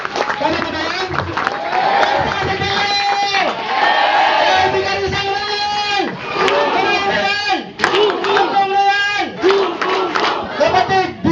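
A large crowd at a Royal Business Club event in Baguio City roars and yells in loud, sustained bursts, with brief dips between surges and scattered clapping buried under the shouting.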